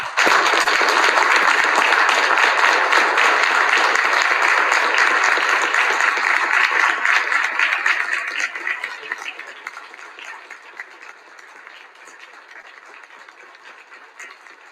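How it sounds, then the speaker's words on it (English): Sustained applause fills a state legislative assembly chamber during a special session, loud and dense for about eight seconds before thinning and fading to scattered claps. "I would hope that all of us might just take a moment and offer them a round of applause"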